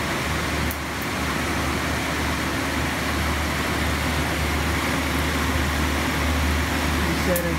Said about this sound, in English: Machine's running 1200 RPM. And it sounds excellent.